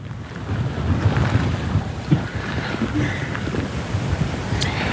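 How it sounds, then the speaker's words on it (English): Strong hurricane gusts roar at Wrightsville Beach during Hurricane Florence, a steady heavy rush of wind buffeting the microphone with surging bursts, close and loud throughout. "these gusts that come in real strong that kind of knock you off your feet"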